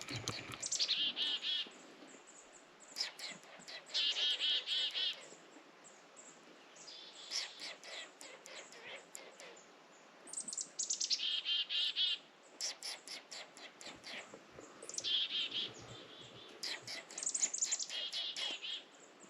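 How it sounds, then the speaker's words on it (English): Small songbirds, chickadees, calling along a glacier lake hiking trail in Northern Ontario: repeated bright chirps and short call bursts come in clusters from close by, with no talking. "So there's a chickadee coming over here."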